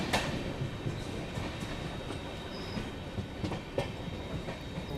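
An Indian Railways train runs along the tracks near Bardhaman Junction, giving a steady rumble with rhythmic clickety-clack from the wheels and occasional sharp squeals, continuous and fairly close throughout.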